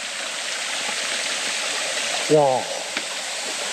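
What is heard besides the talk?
waterfall falling from about 30 m in a mountain valley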